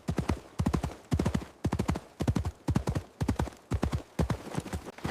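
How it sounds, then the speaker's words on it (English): A horse gallops fast, its hooves striking in quick, evenly repeating clip-clop bursts of three to four beats, loud and close, with no talking. "he bought a fast horse and went back to Verona"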